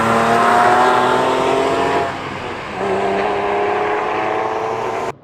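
Porsche 997.1 C2S flat-six with aftermarket mufflers and no factory sport exhaust, roaring loud and close with a deep, raspy exhaust note that eases briefly and then swells again before cutting off.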